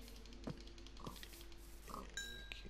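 Pig oinking in the Minecraft video game, a few short grunting oinks spread over a couple of seconds at moderate level with quiet game ambience around them and no talking.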